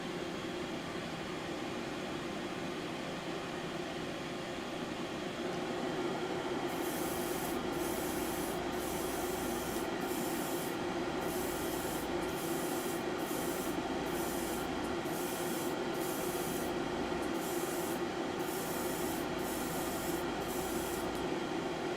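Parts of a plastic robot model kit are spray painted in a series of short, repeated hissing bursts over a steady low background hum, close by and fairly quiet, with no one speaking.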